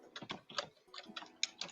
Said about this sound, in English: I know somebody typing searching it up right now.